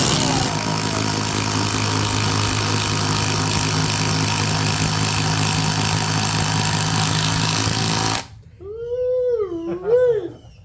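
Cordless impact drivers from DeWalt, Ryobi and Milwaukee running free in an RPM test, with a loud steady high whine for about eight seconds that then cuts off, followed by a rising and falling whoop like a voice.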